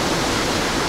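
Water pours steadily out of an outdoor pool through an outlet, a close, even rushing and splashing wash with no voices over it.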